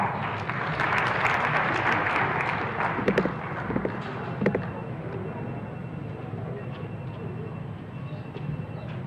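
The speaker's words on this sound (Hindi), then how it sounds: "आपकी जोरदार तालियों के साथ" Loud applause from a large audience at a public ceremony with a minister and state officials in Agra, Uttar Pradesh, a broad steady roar of clapping that swells early, then fades to a softer murmur.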